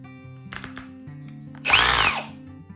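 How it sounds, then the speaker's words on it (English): A power driver tightens bolts while an iScooter U1 e-bike is assembled: a few short stuttering bursts, then one louder whirring run of about half a second, close by and with no voices. "we prefer to use a power driver"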